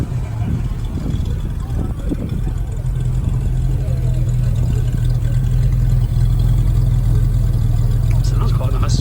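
A 1987 Ford Capri engine idles and runs with a steady low rumble, its tone rising slightly as it revs, with a voice heard briefly over it.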